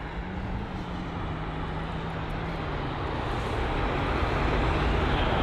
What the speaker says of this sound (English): The American Airlines departure there.